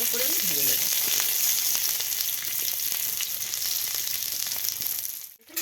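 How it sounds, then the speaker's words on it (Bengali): Potatoes fry in mustard oil in an iron wok, giving a steady, close, dense sizzle that runs unbroken for nearly the whole stretch before dipping briefly at the very end. "আলুগুলো আমি তেলে দিয়ে ভালো করে আলুগুলোকে আমি লাল"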